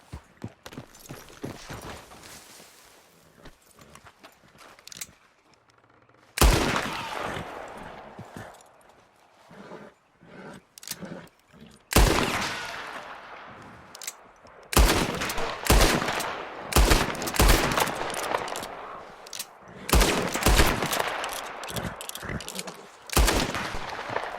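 Gunfire rings out in the Western video game Red Dead Redemption during a rabbit hunt, with several loud, sharp shots spaced seconds apart amid hoofbeats and outdoor game ambience.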